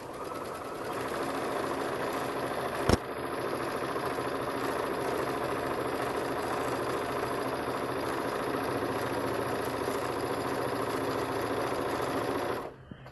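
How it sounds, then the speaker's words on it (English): Sewing machine stitching a lapped zipper seam, running steadily for about twelve seconds with a continuous whirring hum, one brief sharp click early on, then stopping abruptly. "I'm simply going to start from the bottom and start sewing toward the top"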